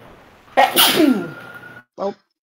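One sharp, loud human sneeze bursts out close by, followed by a short spoken word from another person.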